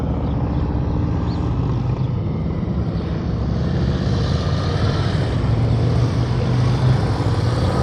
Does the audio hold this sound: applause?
no